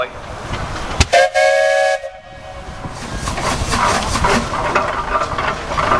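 A steam engine at a steam show passes by, with a brief whistle blast followed by chuffing and mechanical rumble running steadily and fairly close.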